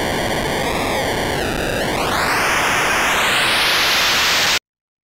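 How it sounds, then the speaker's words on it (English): White noise from a noise generator or noise synth, a loud, dense hiss with a sweeping filtered tone shifting through it, cutting off abruptly near the end. "record a long sample of noise from a white noise generator or a noise synth like this"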